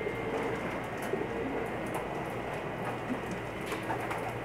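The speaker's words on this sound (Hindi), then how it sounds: "ये कबूतर पकड़ के लाए हैं, इसका शौक़ करें।" Pakistani breeder pigeons coo softly amid a steady hiss of background noise, the low calls faint and repeated in a loose rhythm.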